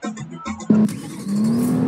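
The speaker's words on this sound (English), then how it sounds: "So I'm spawning my best car now!" Car spawning and driving in the video game Taxi Boss: a short synthetic engine note, then a sudden burst as it appears, followed by a rising engine whine as it pulls away, close and fairly loud after a few short game tones.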